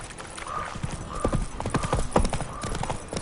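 Roach, the horse in The Witcher video game, gallops with rapid rhythmic clip-clop hoofbeats close by, steady and fairly loud, with a faint whinny-like tone over the hooves.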